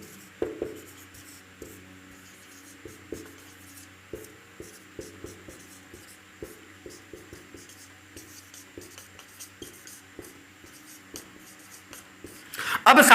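Handwriting during a chemistry lesson on the periodic table: repeated soft scratching pen strokes on a writing surface, close and rhythmic, with a louder rustle at the end.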